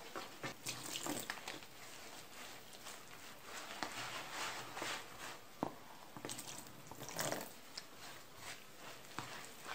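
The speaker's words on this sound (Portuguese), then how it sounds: "com o fermento e colocar água" Water poured into whole-grain eight-grain bread dough mixed with yeast, a soft continuous splashing and trickling at close range, fairly quiet, with no talking.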